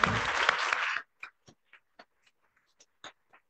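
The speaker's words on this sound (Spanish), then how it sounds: "Démosle un gran aplauso." An audience applauds at the end of a lecture on sexual offences, first as a loud burst of clapping for about a second, then as a scattering of isolated claps that die away.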